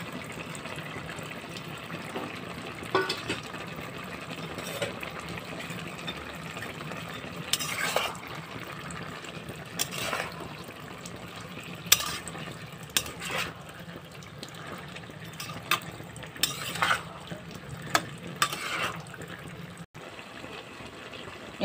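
Fried puti fish are stirred into a sizzling pan for a Bengali chochchori, giving a soft continuous frying hiss broken by repeated scraping stirs and occasional sharper knocks.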